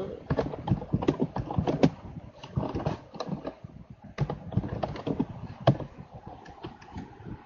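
Rapid, irregular keystrokes on a computer keyboard as a short title is typed into a website editor on a Windows PC, clattering in quick bursts with brief pauses, close and moderately loud.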